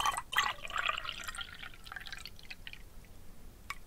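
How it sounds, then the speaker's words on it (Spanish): A little cool water is poured into a glass holding a concentrated, fragrant drink, a close, quiet trickle with bright splashes that thins into sparse drips toward the end. "Y si le añades un poquito de agua muy fresquita,"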